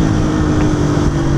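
A motorcycle engine held in first gear gives a brief, loud, steady drone with a low hum, heard alone.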